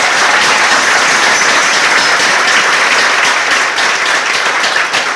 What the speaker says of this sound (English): So may we give a thunderous hand clap